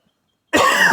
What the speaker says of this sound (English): Damn coughing.